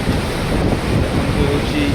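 Water rushes loudly from two opened gates at Kanjhari Dam in rainy weather, a dense continuous roar heard close by with wind buffeting the microphone.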